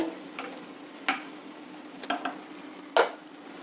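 A few sharp scraping knocks of a utensil against a pan as cooked lentils are mixed into vermicelli, spaced irregularly over a low steady background hum, close and fairly quiet.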